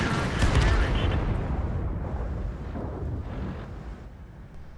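A tank cannon shell slams into the side of a T110E4 in World of Tanks, fired by an enemy E5: one heavy, close blast that rumbles and fades slowly over several seconds.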